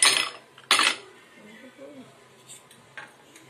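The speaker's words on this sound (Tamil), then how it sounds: "நான் வந்து இங்கே ஒரே ஒரு ஐஸ் கியூப் போட்டு சேர்த்துக்கிறேன்." A single ice cube drops into a glass of banana and papaya juice with a couple of bright clinks up close, followed by faint light rattling and quiet handling.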